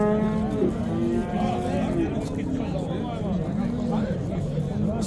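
Cows moo loudly and repeatedly at a busy cattle market, long drawn-out lowing calls rising over a constant hum of crowd chatter and people talking nearby.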